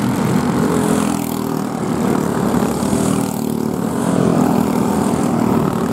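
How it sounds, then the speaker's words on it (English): Four-stroke racing karts at a race meeting roll out onto the circuit, a steady loud buzz of small engines droning together without pause, no talk over it. "Four-stroke racing making their way out onto the circuit."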